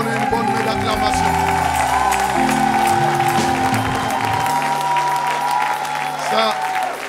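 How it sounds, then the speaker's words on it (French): A church congregation at a worship service claps and cheers over loud sustained music with an organ-like tone, the applause dense and continuous throughout, with voices mixed in. "est-ce qu'on peut donner une bonne main d'acclamation?"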